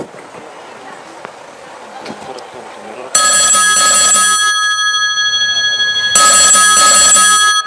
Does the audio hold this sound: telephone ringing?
yes